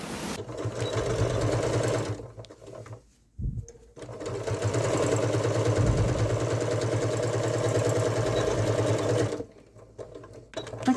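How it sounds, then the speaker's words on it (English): A sewing machine top stitches a toe-shaped Christmas stocking, a close, steady mechanical whir broken by a short pause near the start and stopping near the end. "So just do a little top stitch and then that's it."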